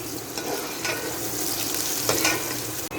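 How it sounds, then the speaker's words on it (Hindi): Onions sizzle and crackle in hot oil while being stirred, producing a loud, close, continuous frying hiss with brief scraping surges and a sharp knock near the end. "अब हम इसके अंदर डाल देंगे प्याज।"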